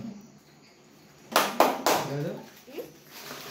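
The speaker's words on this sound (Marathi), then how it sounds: "टाळ्या वाजव।" Hands clapping at a family biscuit game prize-giving, a few short claps in quick succession amid soft voices, with someone speaking faintly afterward.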